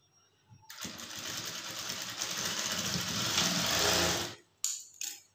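A sewing machine stitches blouse lining cloth in one continuous run of rapid whirring and clatter lasting a few seconds, then stops, followed by a couple of brief knocks.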